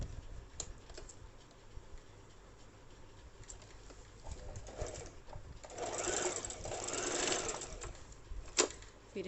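Domestic sewing machine stitching a salwar seam, a quiet, close patter of needle strokes that speeds up into a denser burst midway with a few sharp clicks, no talking.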